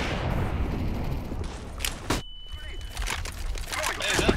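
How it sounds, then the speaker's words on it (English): A flashbang grenade thrown in Counter-Strike: Global Offensive, heard as a sharp burst followed by a sudden drop and a thin steady ringing tone lasting under a second, set against ongoing game noise and voices. "Throwing a flashbang!"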